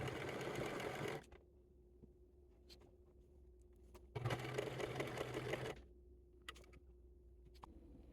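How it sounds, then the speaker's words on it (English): Sewing machine stitching stretchy fabric for an herb-filled cat pillow, in two loud, steady bursts of about a second and a second and a half, separated by quieter pauses with a few faint clicks and a low hum. "So I finished sewing the first portion"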